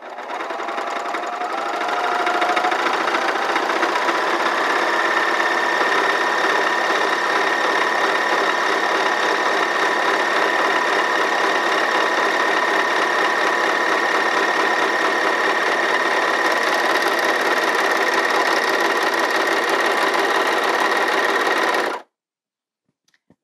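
A Bernina overlocker stitching a rolled hem, a fast, steady mechanical whir and hum that runs loud and unbroken for about twenty seconds before stopping abruptly.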